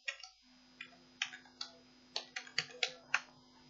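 Typing HTML code on a computer keyboard produces about ten sharp, close key clicks in uneven bursts over a faint steady electrical hum, with no voices.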